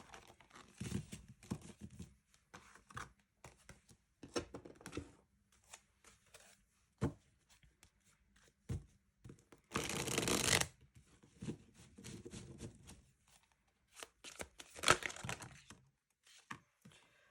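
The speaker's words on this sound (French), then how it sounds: "Je vais prendre 2 cartes de tarot." Tarot cards are shuffled and handled in scattered bursts of papery riffling and slapping, with quiet gaps between and one longer dense shuffle in the middle, close and fairly soft.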